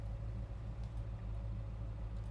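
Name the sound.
1966 Chevrolet Chevelle Malibu 383 engine idling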